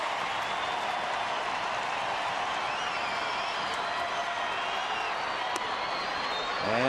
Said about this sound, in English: So the crowd applauding when they take a look at Abreu.